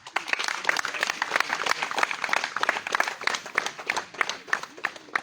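A live crowd claps steadily through a political rally address in Magere, the dense applause rising and falling for several seconds, with a few voices faintly mixed in.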